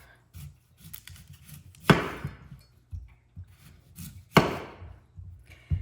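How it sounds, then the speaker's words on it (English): Kitchen knife trimming the rough outer skin off a celery root (celeriac) on a cutting board, two sharp chopping strikes standing out among softer scraping and tapping cuts, close and without talk. "Basically, you're gonna trim all of this ucky outside off"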